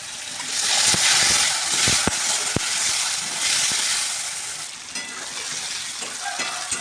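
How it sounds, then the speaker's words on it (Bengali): Raw tomatoes fry in hot oil with a loud, continuous sizzle and crackle, broken by a few sharp pops and scraping stirs, close by and without speech. "ওই তেলে কাঁচা টমেটো ভেজে নেবো"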